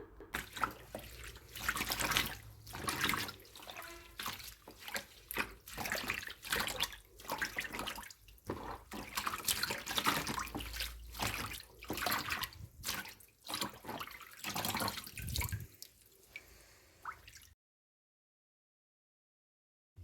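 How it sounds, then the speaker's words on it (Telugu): Fenugreek leaves being washed under a running kitchen tap, a steady close splash of water with shifting bursts as the leaves are handled, ending abruptly in silence. "ఈలోగా ఈ మెంతుకూరని నీట్గా కడుక్కుందాం"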